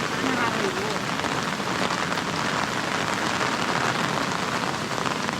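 Steady rain falls outdoors at a river dam, a dense, continuous hiss of drops on surfaces and water, close and even throughout with no talking.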